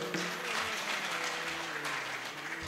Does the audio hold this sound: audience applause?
yes